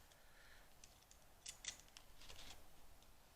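Scissors snip through paper while a homemade paper pocket is being trimmed, giving a few quick, crisp close-up cuts in a quiet room, with no talking.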